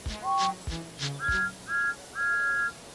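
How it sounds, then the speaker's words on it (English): Two cartoon steam engines, Thomas and James, trade goodbye whistles: five clear, evenly spaced toots, the first few shorter and the last longer and sustained, sounding close and loud with soft chuffing underneath. "Thomas and James whistled goodbye to each other"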